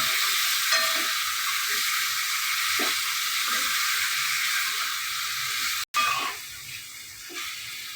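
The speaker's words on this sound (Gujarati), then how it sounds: "અને આપણે બરાબર મિક્સ કરી દઈશું" Goat tripe curry being stirred in a pan, a steady sizzling hiss with scattered scraping spoon knocks, briefly interrupted near the end.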